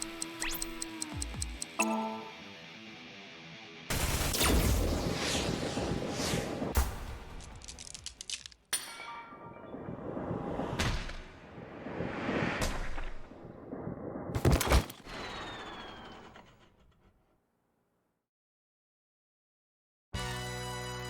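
Gunfire in the video game Ai: The Somnium Files 2, loud bursts of shots and impacts in several clusters amid game sound effects, breaking off into a few seconds of silence before sound resumes.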